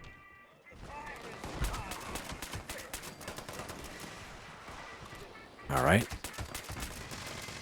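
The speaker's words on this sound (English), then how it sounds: "Just kind of shoot around, and as long as one of your bullets land" Rapid gunfire against cultists in the video game Fallout 76 rattles on steadily in dense bursts, with a louder, sharper volley near the end and a brief spoken word over it.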